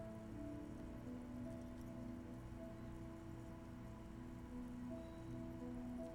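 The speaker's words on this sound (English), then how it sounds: "All around you, rain falls on the great city" Steady, soft rain falls over a great city in the video game Disco Elysium, a quiet, even hiss of drops with faint sustained tones humming underneath.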